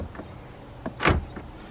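Car power door locks click shut and then pop open again on the driver's side door, fitted with an aftermarket interior knob kit: a few short, close actuator thumps, the loudest near the middle.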